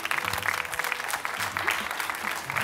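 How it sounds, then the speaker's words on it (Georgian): Studio audience applauding at a Georgian comedy competition show, dense steady clapping from many hands throughout, close and loud. "აპლოდისმენტები"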